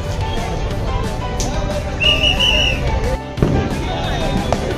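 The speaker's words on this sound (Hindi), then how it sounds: "देखो पटाखा चालू है" Diwali firecrackers go off at Marine Drive in Mumbai, mostly distant pops and crackles with a brief whistle and one sharper bang near the end, while people talk nearby.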